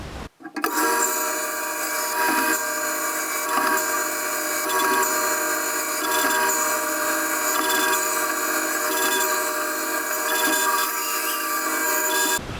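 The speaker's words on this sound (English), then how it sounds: "So I'm going to do mine on a bandsaw." A bandsaw rips wood into long, thin strips, giving a loud, steady mechanical whir with faint scraping of the blade through the board, running close and alone with no talk.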